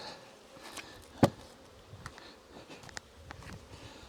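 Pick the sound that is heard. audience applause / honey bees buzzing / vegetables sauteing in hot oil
honey bees buzzing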